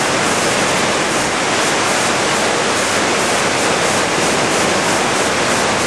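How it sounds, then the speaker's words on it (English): Coac Falls, a waterfall, roars in a loud, steady broadband rush that holds constant throughout with no voices. "This is one of the most prettiest waterfalls that we've been to so far."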